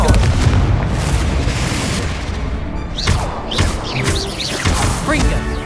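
Blasting spell explosions in the video game Hogwarts Legacy: loud, booming bursts over a dense rumbling battle, with several sharp impacts toward the end and no talk.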